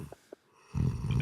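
A man snoring in his sleep, a short quiet inhale and snort early on, then a loud, rumbling, sustained snore building up near and alone.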